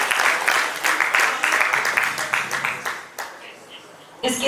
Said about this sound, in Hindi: जोरदार तालियों से हम सभी उनका स्वागत करें।